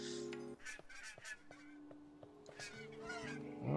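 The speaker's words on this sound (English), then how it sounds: "All the birds are still here." Birds honking in the video game Broken Age, a series of goose-like honks and squawks repeating in uneven bursts, fairly faint and alone with no talk.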